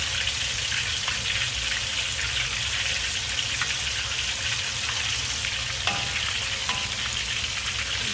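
Whole fish frying in a wok of hot oil for Chinese sweet and sour squirrel fish, with oil ladled over the top: a steady, dense sizzle and crackle running throughout with a few light clinks.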